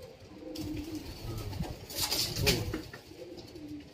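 Banded pigeons coo softly and repeatedly nearby, with a faint chirp and a light rustle in a quiet space.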